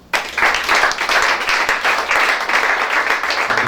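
A church congregation claps and applauds in praise of God, a dense, steady wash of many hands that keeps going without a break.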